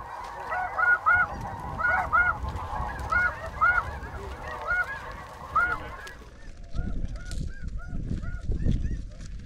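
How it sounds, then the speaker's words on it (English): A large flock of snow geese honks repeatedly in a dense, overlapping chorus during a hunt over decoys, the calls thinning out partway through as low wind-like rumble and distant honks continue. "Just all kinds of snow geese working in here."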